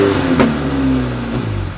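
A petrol cogeneration generator running short of fuel revs hard for under two seconds, loud and close, its engine note rising and then holding.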